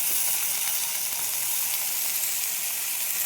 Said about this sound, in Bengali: আমি আলুগুলো ভেজে নেব একসাথে